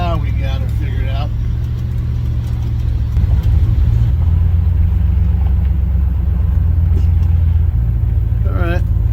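A car engine rumbles steadily while driving, a loud low drone throughout with a person talking over it.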